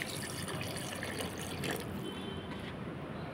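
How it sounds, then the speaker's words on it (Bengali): Water poured into marinated pigeon meat in a pot for curry, a faint, steady trickling pour lasting a few seconds with no talk. "এখন আমি পরিমাণ মতো পানি দিয়ে দিচ্ছি।"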